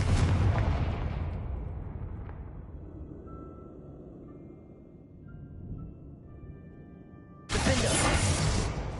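A Confringo fire spell bursts in Hogwarts Legacy with a loud, shattering blast that slowly fades into a low rumble. A second explosion erupts near the end, just as loud.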